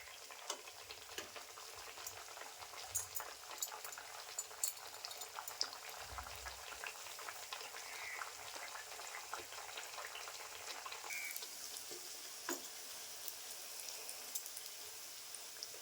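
Malpua pancakes frying in oil on a medium flame as they slowly puff up, a steady, soft, close sizzle and fine crackle with occasional light bubbling, continuing without talk.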